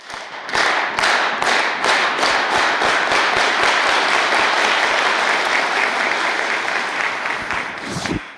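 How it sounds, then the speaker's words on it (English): A university keynote audience joins in a farm worker clap, loud rhythmic unison claps starting slowly and speeding into a dense, continuous roar of clapping before stopping abruptly. "I want you to lead everybody in doing the farm worker clap."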